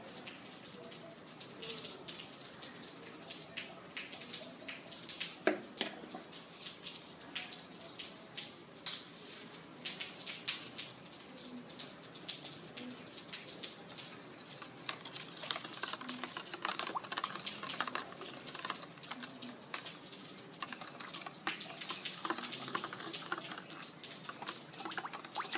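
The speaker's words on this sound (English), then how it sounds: "And now I am going to mix salt in it." Quick, light clicking and scraping as a spoon stirs salt into a glass of water, continuing steadily with no voices.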